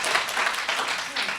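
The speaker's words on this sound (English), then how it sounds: "Clap if you think he's one of your favorite professors." A classroom audience at a physics diploma ceremony claps for a favorite professor, a brief burst of applause in uneven waves, moderately loud and close, with no voices over it.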